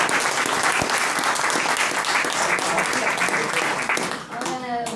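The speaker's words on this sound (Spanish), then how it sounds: "Un aplauso para ustedes y otro para Jesús." An audience at a Christian talk gives dense, sustained applause filling the room close by, fading near the end as a voice begins to speak.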